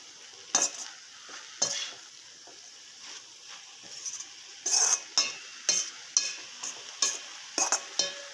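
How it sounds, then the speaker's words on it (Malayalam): A spoon scrapes and stirs through food sizzling in a frying pan, with irregular clattering strokes over a soft, continuous fry in a home kitchen. "നല്ലതുപോലെ ഒന്ന് മിക്സാക്കി കൊടുക്കാം"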